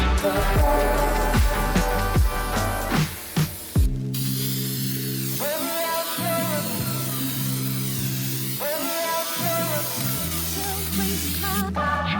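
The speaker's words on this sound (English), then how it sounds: "I'm going to go ahead and spray this on there." An aerosol can hisses in several long sprays, interrupted by short pauses, close and loud, with a low electrical hum underneath.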